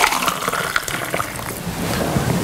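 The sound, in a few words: pouring icy ginger vodka slushy cocktail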